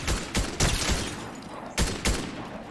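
Gunfire in the Fortnite video game, played in no-building mode: bursts of rapid shots with strong broadband cracks, a few heavy louder blasts spaced across the clip over continuous game noise.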